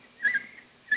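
A person whistling in imitation of a nightingale's song, two short clear warbling phrases, close and fairly quiet, in a quiet setting with no talking.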